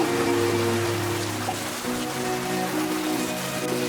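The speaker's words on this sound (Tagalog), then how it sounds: "ang lakas ng ulan" Heavy rain pours down in a steady, dense hiss, with a faint low tonal hum running beneath it and no voices.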